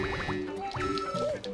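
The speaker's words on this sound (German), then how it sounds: "Vorsicht von diesen Wasserblasen." Bubbly, squishy liquid effects from the Super Mario Galaxy 2 video game's water bubbles, with quick dripping pops and gliding tones over soft game music, loud and close, with no talking.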